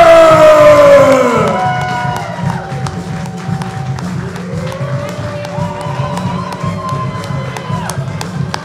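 Crowd at an arm wrestling event applauding and cheering as an athlete is introduced, a loud swell of cheers and shouts that settles into ongoing crowd noise, with a falling tone at the start.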